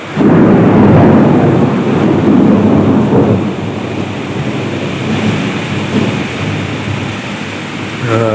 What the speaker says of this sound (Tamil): இருங்க இன்னொரு வாட்டி இடி வரும் அந்த டைமில் நான் உங்களுக்கு அந்த சவுண்டு காமிக்கிறேன்